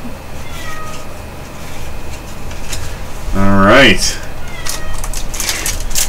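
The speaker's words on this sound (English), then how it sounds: "Yep, that's the cat just meowing away." A loud, drawn-out cat meow rises and falls close by, over steady room noise, with a person's brief word and faint voices around it.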